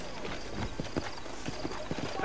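Horse hooves from Red Dead Redemption, a steady rhythmic clip-clop of a ridden horse, close and moderately loud over low ambient game noise.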